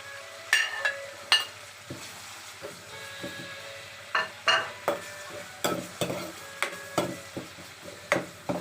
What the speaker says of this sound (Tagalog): igisal po natin ng mabuti